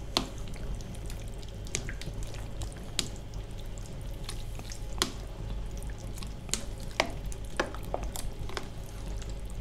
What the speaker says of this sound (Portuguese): Mistura tudo.